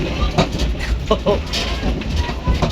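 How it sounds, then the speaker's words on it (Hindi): Railcar train of the 107 Up Islamabad Express running on the tracks from Lahore to Rawalpindi, a steady rumbling roll with faint rhythmic clicks under a voice talking throughout. "लाहौर से रावलपिंडी जा रहा हूँ 107 अब रेल कार पे"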